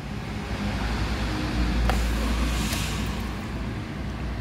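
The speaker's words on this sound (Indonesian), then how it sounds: "Nah, ini suara mesinnya ya." 2016 Toyota Avanza G engine idling just after starting with the door open, a steady low rumbling hum close by, smooth and even throughout.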